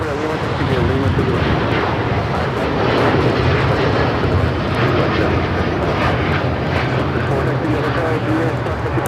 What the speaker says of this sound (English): That is Aeromexico 647 taking off to Mexico City on the 787-9 Dreamliner.